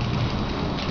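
Steady rain falling outdoors, a dense, even broadband hiss of drops on surfaces, loud and close throughout with no talking.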